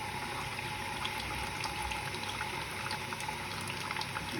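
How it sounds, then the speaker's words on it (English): Water rushing and circulating inside a Zanussi dishwasher as it fills, a steady, broad hiss and gurgle at low level with no pauses throughout. "Water coming here, going around, mixing with salt."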